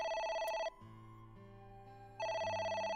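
A telephone rings in the video game The 7th AI: The Somnium Files, with two bright electronic ring bursts separated by a short gap filled with quieter low background music.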